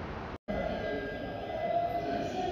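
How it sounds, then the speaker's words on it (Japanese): An out-of-service train rumbles steadily into platform 5 at JR Sendai Station, the low noise swelling toward the end. "まもなく5番線に回送列車が参ります。"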